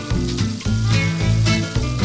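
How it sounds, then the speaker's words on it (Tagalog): Onion, kimchi, leeks, bitter gourd and water spinach sauté in a pan with a constant, moderate sizzle under melodic background music. "Igisa ang sibuyas, kimchi, leeks, ampalaya, at kangkong."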